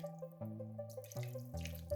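Broth is ladled from a pot into cooked pearl barley for Nauryz kozhe, making a quiet liquid pour and gurgle in short bursts with some faint ringing tones and no voices.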